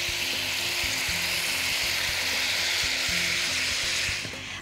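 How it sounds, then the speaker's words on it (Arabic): Minced meat fries in a pan with onion and spices, a continuous loud sizzle and crackle throughout, with a faint low mechanical hum running underneath as it fades slightly at the end. "وهننزل اللحمة المفرومة اللي عندي."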